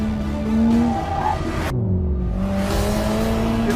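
A new Chevrolet Corvette revs hard and its tires skid: a loud engine whine rises and falls while tire squeal cuts in midway, close and continuous, with no voices.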